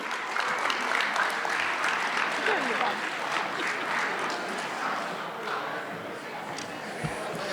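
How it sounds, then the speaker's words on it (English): Warm applause at a Broadway Theatre League gala in Scranton, a full hall of clapping that swells loud early, then gradually tapers off, with chatter from the crowd underneath. "Everybody, a nice warm round of applause for Mr. Frank Blasi."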